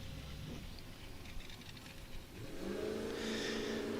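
Ultra4 off-road race car at the Big Sky 200 in Montana, powered by an LS 427 with over 650 horsepower, launching off the line; a steady engine roar swells and grows louder and more sustained as the car accelerates away.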